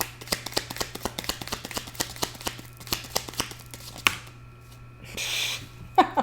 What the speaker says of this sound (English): I'm going to keep shuffling because that kind of jammed on me.